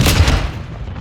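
A Semtex grenade explodes in a first-person shooter, one loud close boom with a short rumbling tail that fades within a second.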